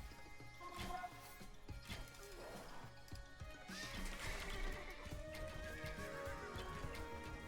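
A horse neighs amid game sounds in the medieval strategy game Age of Empires II, the whinny rising over steady clip-clopping hooves and scattered clanks, moderately loud and continuous throughout.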